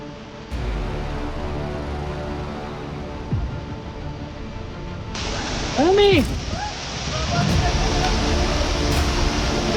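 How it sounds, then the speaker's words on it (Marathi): Vajrai Waterfall, a tall, huge cascade about 560 metres high, heard as a steady distant roar that grows fuller and louder partway through, with faint voices and brief tonal sounds over it. "समोर दिसणारा हा उंच आणि प्रचंड मोठा वज्राई धबधबा"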